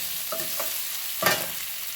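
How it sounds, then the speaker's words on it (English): Chopped Indian shallots sauté in a pan for a mackerel curry, a soft steady sizzle with a few light stirring scrapes, faint and close, no voices. "So now let it saute a little"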